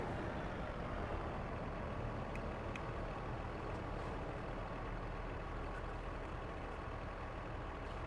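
Steady road traffic from a Mexican map in American Truck Simulator, buses and trucks rolling along, a constant broad engine and road rumble with faint high clicks, close and unbroken throughout.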